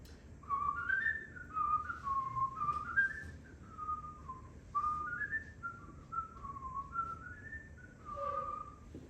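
A person whistling a cheerful, meandering tune, steady and moderately close, over low background rumble with no talking.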